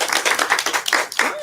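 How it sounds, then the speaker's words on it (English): Clapping from an audience welcoming a presenter on tuning forks for healing, heard as a short burst of fairly close, uneven hand claps with some overlapping voices. "Let's give her a round of applause."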